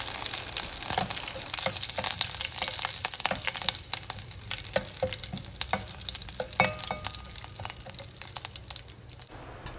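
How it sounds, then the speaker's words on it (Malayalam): Curry leaves and torn dried red chillies sauté in a pan for okra kichadi, giving a steady close sizzle with frequent stirring scrapes and small clicks throughout, no speech. "എന്നിട്ട് നന്നായിട്ടൊന്ന് വഴറ്റി കൊടുക്കാം."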